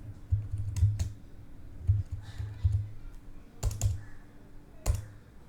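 Computer keyboard keys tapped in short bursts of quick, crisp clicks with brief pauses between them, close and fairly quiet, with no talking.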